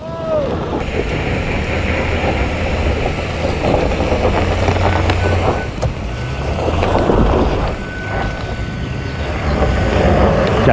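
A 2023 Honda Pilot Trailsport working over off-road terrain, engine droning steadily with wheels spinning for traction, a continuous loud rumble buffeted by wind noise on the microphone throughout.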